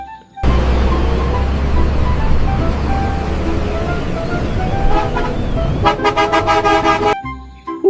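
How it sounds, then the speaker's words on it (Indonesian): A toy bus telolet horn plays a rapid run of repeated bright melodic toots toward the end, over a steady loud engine-like rumble that fills most of the clip. "Wah, ada bus telolet."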